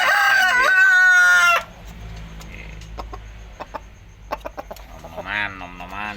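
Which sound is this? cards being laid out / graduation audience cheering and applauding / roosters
roosters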